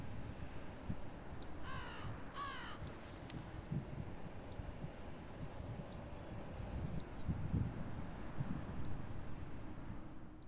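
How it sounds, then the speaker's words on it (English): Two harsh caws from a crow flying past in open countryside, fairly clear against a steady background of insect chirring and faint rustling, followed by quieter ambient outdoor sound, no speech. "Just had a crow buzz by there"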